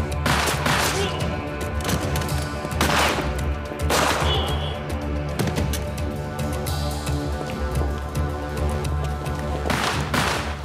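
Repeated bursts of gunfire crack through a loud, busy scene, several volleys spread across the stretch with voices calling out in between.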